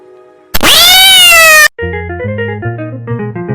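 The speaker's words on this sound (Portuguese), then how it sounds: "Sim, era um gato." A single loud, drawn-out meow from a video game cat rises and holds for about a second, then gives way to a soft, plinking melody of tones.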